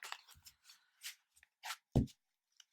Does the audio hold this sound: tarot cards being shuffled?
yes